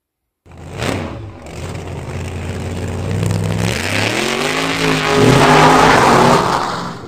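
Engine revving effect for a drag race between two Majorette die-cast toy cars: after a brief silence, a loud throaty roar builds and rises in pitch, holding steadily for several seconds with no talk.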